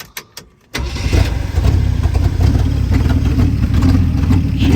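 A 1973 Jeep J2000 cranks briefly with a few short bursts, then catches and settles into a loud, steady, rough idle close by, with no talk.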